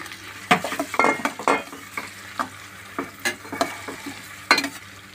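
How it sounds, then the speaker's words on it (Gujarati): Potatoes added to softened onions being stirred and frying in a pan, with a steady sizzle broken by repeated scraping and clinking strokes of a utensil against the pan, close and fairly loud. "બટેકા થોડા ઘણા મિક્સ કરીને"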